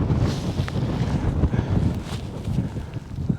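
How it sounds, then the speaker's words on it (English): Wind on Beinn Heasgarnich, a Munro in the Scottish mountains, buffets the microphone with a steady, close roar that swells and dips without a break. "See, still a wee bit of wind."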